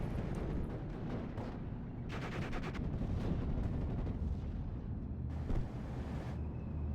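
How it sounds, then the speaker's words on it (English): Artillery barrage from an M2A1 105mm howitzer in a video game, a run of dull booming blasts and crackling impacts over a constant low rumble, several bursts landing in quick succession. "Looks like we got the barrage coming down. Do got this M2A1 105mm howitzer."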